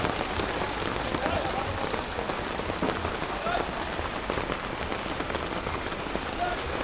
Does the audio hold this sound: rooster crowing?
no